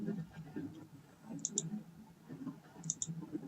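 Paired sharp mouse clicks on a computer, two quick double clicks spaced about a second and a half apart, over soft background talk and room noise.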